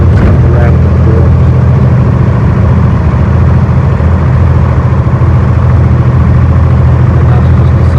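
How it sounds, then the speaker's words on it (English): A running engine with a worn piston rattling in its bore idles with a steady low rumble and a dense mechanical clatter throughout, loud and close, with no pauses. "when I let off the gas on the piston, it's going to rattle in the bore"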